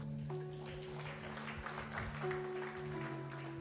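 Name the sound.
applause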